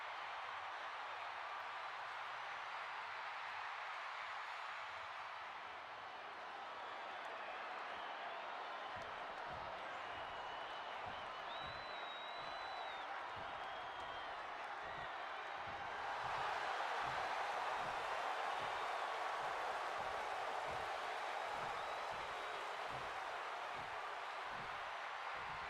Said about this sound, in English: And the crowd's singing again.